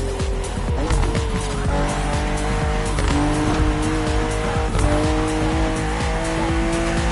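A BMW M4 CSL in the racing game The Crew Motorfest, its engine roaring loudly and steadily while the tires squeal repeatedly through hard cornering and skids, with no talking.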